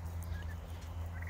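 A turkey gobbles faintly in a quiet outdoor setting, a short, low warbling call heard alone.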